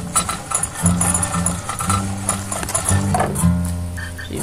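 A herd of horses in the oil-drilling game Turmoil, with many overlapping whinnies, snorts and clopping sounds in a dense, busy stream, loud and continuous with no talk.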